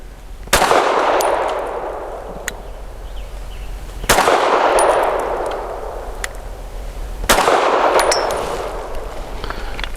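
Three shots from a Grand Power Q1S subcompact pistol firing 165 grain TMC ammunition at a 6-inch steel spinner target about 15 yards away, each a sharp crack with a ringing metallic clang, spaced roughly three to four seconds apart.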